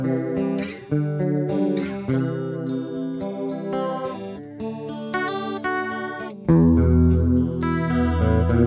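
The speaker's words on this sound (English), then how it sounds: "my favorite and the whole reason why I bought this was the chorus effect" A guitar runs through the chorus setting of a modulator effects pedal, its sustained chords and notes shimmering and swirling, played alone with no talking and growing louder toward the end.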